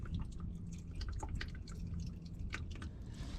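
Transmission fluid drains from the pan of a Winnebago RV transmission in faint, irregular drips and a soft trickle over a low background hum.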